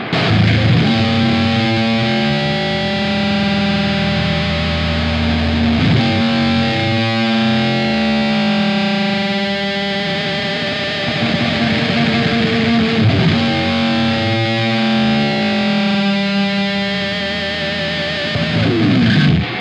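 A heavily distorted Dumble-style guitar amp tone rings out in long sustained chords, thick with buzzing overtones, loud and continuous without pause.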